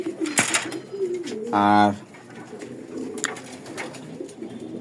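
A pigeon coos once, loud and close, amid other birds calling in a loft, while someone speaks in Bengali around it.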